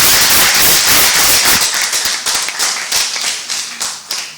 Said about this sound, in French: Je vous demanderai de l'applaudir encore une fois